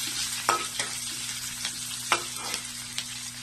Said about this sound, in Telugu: ఇవి కొంచెం వేగిన తర్వాత పోపు గింజలు, అందులో కొన్ని ఉల్లిపాయలు సన్నం కట్ చేసుకొని వేసుకోవాలి